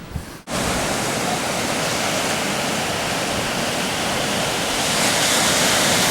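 Steady roaring wash of ocean surf at Pfeiffer Beach on the California coast, continuous and fairly loud after a brief dropout at the start, with no talking.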